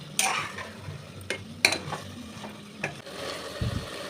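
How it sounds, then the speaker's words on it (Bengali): Tomato and onion masala being stirred and fried for a mutton curry with potatoes, a low sizzle under a few sharp spatula scrapes and knocks against the pan, plus a brief low thump at the end. "তো টমেটোটা দিয়ে আরও কিছুক্ষণ কষিয়ে নেব"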